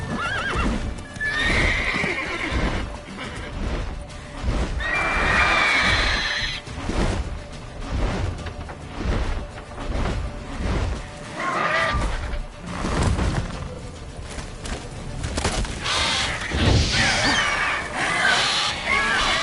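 Roach, a horse in the video game The Witcher 3, whinnies several times between steady clip-clopping hooves, close and fairly loud, with brief thuds mixed in.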